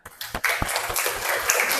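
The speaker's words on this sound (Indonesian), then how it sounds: "Beri tepuk tangan." Students clapping in a classroom, a brief burst of scattered applause with a few sharp hand claps standing out, fairly close and lively, rising quickly and holding steady for under two seconds.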